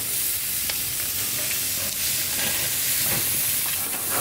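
Burger patties sizzle steadily in a hot pan just after being salted and flipped, a continuous loud frying hiss with small crackles and pops throughout.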